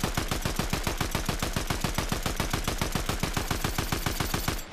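Rapid automatic gunfire from the Fortnite video game rattles in a fast, even stream of roughly forty close, loud shots, then cuts off abruptly.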